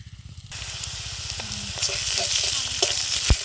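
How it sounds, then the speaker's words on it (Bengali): Ginger-garlic paste fries with onions in a pan, giving a close, steady sizzle with a few soft stirring knocks and scrapes and no talking. "ভালো করে আদা রসুনটা ভেজে নেব"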